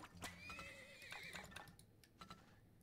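Horse neighing in the oil-drilling video game Turmoil, a quiet, high whinny trailing off, followed by faint clip-clopping hooves and light ticks.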